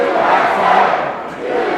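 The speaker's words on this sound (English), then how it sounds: "Listen to this crowd." A patriotic crowd at a live professional wrestling event roars and cheers continuously, a loud, steady wash of arena noise with no break.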